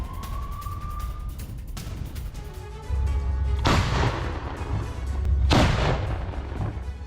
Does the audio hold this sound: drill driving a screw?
no